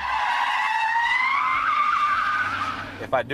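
Tires of an armored car squeal in a long, sustained skid during a J-turn, loud and close, rising slightly in pitch before a brief burst of engine noise at the end.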